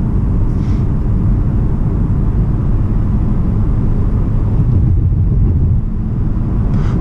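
Lada Vesta car driving at night, a steady broadband rumble of road and wind noise with engine hum, constant and fairly loud throughout with no voices.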